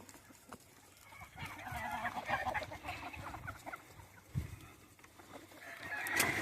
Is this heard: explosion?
no